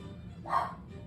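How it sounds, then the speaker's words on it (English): A single short, faint dog bark or yip, heard at a distance over a low background hum. "That's my dog right there."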